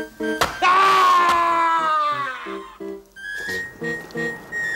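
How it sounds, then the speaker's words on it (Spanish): A drawn-out, wavering scream in a vintage Spanish television horror drama rises then slowly falls over a couple of seconds, loud and close, followed by sharp tonal stabs of dramatic music. "¿Qué alarido tan extraño, verdad?"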